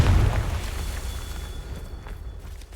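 A Confringo fire spell blasts in Hogwarts Legacy, a game set in the catacombs: one heavy, deep boom hits at the start, then trails into a long, fading rumble.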